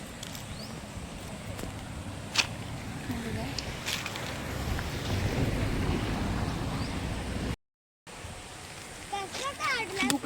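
A small river rushes steadily during a rural picnic outing near Jawhar, a continuous broad wash of flowing water mixed with gusts of wind noise on the microphone. There is a brief dropout, and faint voices are heard near the end.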